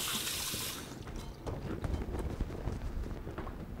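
Cold tap water runs in a hissing rush, then splashes and patters as hands are wet under it while making chocolate-covered coconut macaroons. The sound is close and moderately loud.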